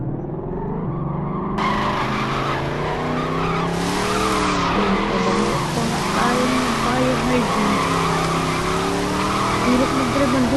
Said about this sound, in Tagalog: Magdadrive na ako ng kotse.